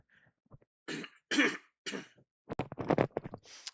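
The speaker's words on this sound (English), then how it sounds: "I need to cough, so I'm gonna move this away." A person coughs and clears their throat several times in a row, close to the microphone, in short rough bursts separated by brief silences, with no talking.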